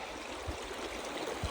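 Steady rushing of mountain stream water on the Cottonwood to Kearsarge trail with a soft trickle, close by, and a couple of low gurgling bumps as a bottle fills.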